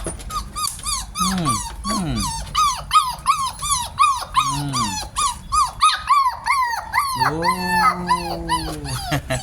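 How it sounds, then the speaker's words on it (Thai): A litter of wrinkle-faced puppies whimpers and squeaks in rapid, repeated high-pitched yelps, with a short low growl mixed in. A person murmurs quietly among them. "ไอ้พวกลูกหมา"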